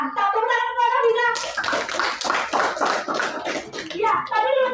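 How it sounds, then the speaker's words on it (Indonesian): Students in a classroom applaud a classmate named Hafiza, a burst of dense clapping after a teacher's voice, lasting a few seconds before speech resumes over it. "Tepuk tangan kepada Hafiza"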